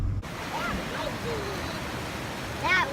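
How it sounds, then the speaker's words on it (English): A steady, full rush of a waterfall beside a cold-water swimming spot on a camping trip. It holds constant throughout, with faint bird chirps above it and a voice briefly over the roar. "That waterfall's cool."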